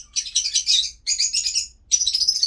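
A lovebird parrot chirps in three quick, close bursts of rapid high tweets separated by brief pauses.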